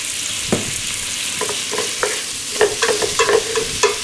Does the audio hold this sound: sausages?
yes